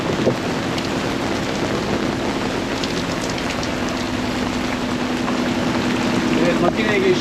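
A sailboat motors under engine power in the South Atlantic with a steady low droning hum, overlaid by gusty wind buffeting and spatter across the whole stretch.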